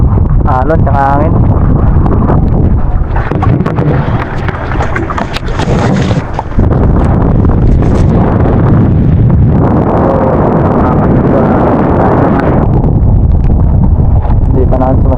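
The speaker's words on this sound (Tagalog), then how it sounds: "Lakas po ng ano, alon tsaka hangin." Strong wind and rough waves buffet a small outrigger boat at sea after rain, with heavy gusts battering the microphone and water sloshing, while people talk loudly throughout.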